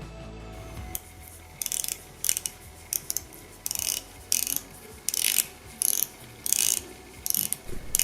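The ratcheting diving bezel of a TAG Heuer dive watch is turned in quick bursts, crisp clicking runs of about a second each, repeated a dozen times with short gaps, close up and with no talking.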